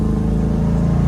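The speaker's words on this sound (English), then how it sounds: "Sounds pretty good, especially with that 351 Cleveland under the hood" A 1973 Ford Mustang with a 351 Cleveland V8 drives along the road, its engine giving a steady, loud, close low-pitched drone with an even throb and no voices.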